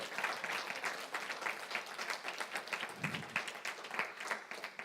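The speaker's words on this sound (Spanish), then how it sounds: "Si lo puedes creer, dale un fuerte aplauso a Jesús." A church congregation claps during a Spanish-language sermon, with a soft, fairly distant, continuous patter of many hands and no clear talk over it.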